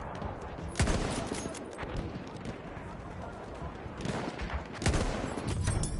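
Gunshots in a video game crack out in a few sharp, loud reports over a constant noisy battlefield background, with a pause between bursts.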